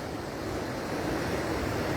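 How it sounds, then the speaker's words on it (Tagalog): Strong ocean waves after a typhoon roar as a dense, continuous, loud wash of surf with wind noise and no clear breaks. "Ang lakas ng alon."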